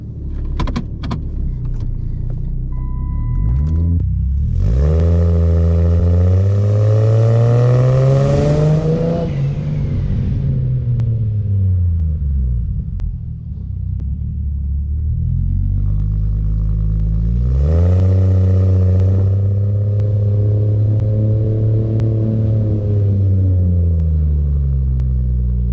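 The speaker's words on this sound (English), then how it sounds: "I'm gonna go ahead and drive it. I just want to show you guys how it drives." A Chrysler 300 with a swapped 2JZ engine pulls away and accelerates hard, its loud, close engine note rising through two long revving pulls with a gear change and a dip in between.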